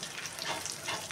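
Cumin seeds and a bay leaf crackle in hot oil, a steady, close, bright sizzle that holds evenly for about a second with no voices.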